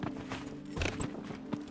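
Horse hooves clip-clop in a short uneven patter while riding in Dragon Age Inquisition, fairly close and moderately loud, with a few heavier thuds among lighter steps.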